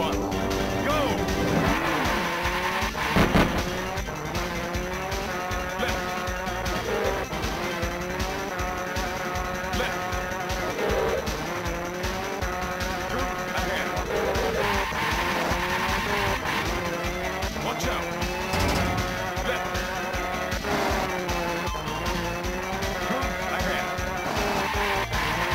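Rally cars race and skid in the Neo Geo game Neo Drift Out, with engine drone and tire squeals running over loud, busy game music for the whole stretch.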